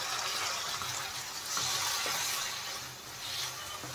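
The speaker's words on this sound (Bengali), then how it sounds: "খুব সামান্য একটু দেখেন জল দিয়ে দিলাম আমি।" A little water poured into a pan of masala while cooking paneer bhurji, a soft continuous gushing splash with swelling and easing surges, close and moderately quiet.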